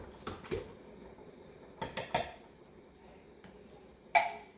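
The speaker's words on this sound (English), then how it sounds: "now we're going to put the 2 cans of Rotel in" Two cans of Rotel tomatoes go into a pan of spicy vegetable beef soup, marked by a few sharp metallic clinks and clanks of can against pan, close by and spaced apart over a quiet background.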